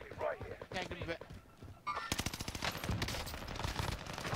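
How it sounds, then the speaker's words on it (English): Call of Duty Warzone gunfire on Rebirth Island: scattered shots at first, then a fast automatic burst of rapid, evenly spaced cracks that carries to the end, moderately loud with background game noise. "Where are those other shots coming from?"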